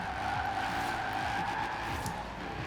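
Tires squeal in a sustained skid over a steady engine drone as a vintage Mercedes drifts in Forza Horizon 4, loud and continuous throughout, with no voices.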